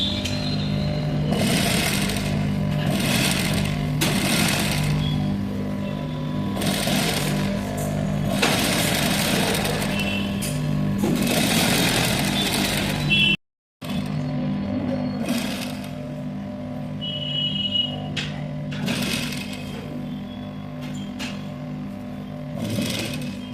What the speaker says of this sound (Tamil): அப்படியே லைனிங் வச்சு ஓர அடிச்சிடும்.